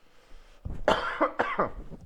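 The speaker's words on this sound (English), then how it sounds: "sorry for the coughing" A person coughs several times in quick succession, harsh close bursts with a throaty rasp, loud against an otherwise quiet room.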